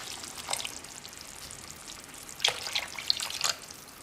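Tamarind water is poured into a boiling Kerala-style tuna fish curry. Quiet bubbling gives way to soft splashes and drips that grow busier toward the end, close by and without speech.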